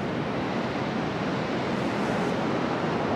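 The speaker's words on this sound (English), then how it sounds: "Waves are coming in." Ocean surf rolling in at Cannon Beach on the Oregon coast, a steady broadband wash of breaking waves with some wind rumble, continuous and fairly loud with no voices.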